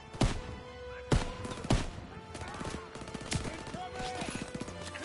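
Repeated gunshots crack out in a video game battle against German troops, sharp bursts in irregular volleys with machine-gun-like rattles, under constant shouting voices.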